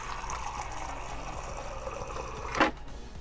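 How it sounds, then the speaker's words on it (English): Half a cup of water poured into a peanut brittle cheesecake mixture, a soft steady trickle ending in a brief louder splash near the end, with no talking. "So let me just put half a cup of water into this."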